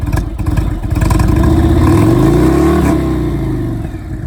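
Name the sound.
motorcycle engine revving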